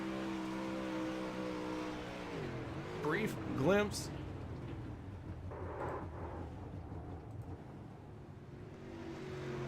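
Several race cars duel for second place during an evening heat race, engines droning in steady harmonic layers with a brief sharp rev sweep midway, while a commentator talks over the action throughout.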